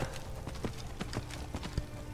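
Hooves of a skeleton horse in Skyrim clip-clop at a steady walking pace, a rhythmic series of moderately close thuds over a soft game ambience.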